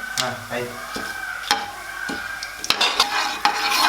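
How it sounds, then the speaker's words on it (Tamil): Spices and vegetables sauté in a pan for a veg salna, with steady sizzling and the scrape and clank of a spoon stirring against the metal. Sharper knocks come toward the end, and a voice speaks faintly underneath. "எல்லாம் சேர்த்து மறுபடியும் ஒரு 30 செகண்ட் வந்து வதக்கணும்"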